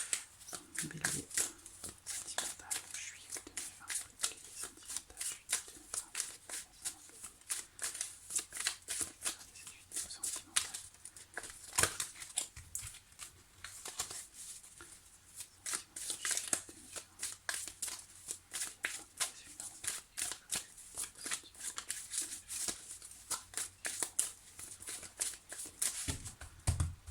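Tarot cards are shuffled by hand close up, a long run of soft riffling and flicking bursts with brief pauses between them, quiet and with no talk.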